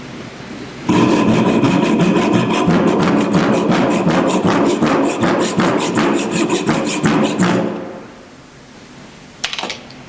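Hand saw rasping through clamped wood in strokes that grow irregular and uneven, close and loud, then stopping, with a couple of brief knocks after.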